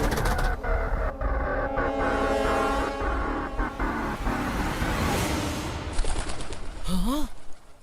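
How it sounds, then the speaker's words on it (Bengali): Cartoon pigeon cooing, a few short rising calls near the end heard over busy background music and effects. "এই আওয়াজটা তো পায়রার।"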